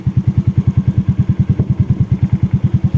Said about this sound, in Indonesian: Bisa lihat suaranya mesin. Saya dekatkan ya.